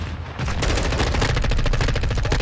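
Rapid automatic gunfire from a weapon in Modern Warfare 2, a loud continuous burst of evenly spaced shots that starts after a brief pause and runs unbroken to the end.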